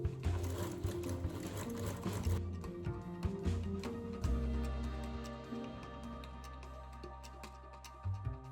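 Sewing machine stitching a seam on a shawl-collar blouse, its rapid rhythmic whirring close and loud at first, then easing to a lower, steadier hum with a few mechanical clicks.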